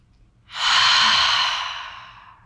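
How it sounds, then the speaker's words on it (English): A single slow, deep breath during a core strength workout, heard close and clear: a quiet intake, then a long audible exhale that fades out gradually. "Take a full breath in and out."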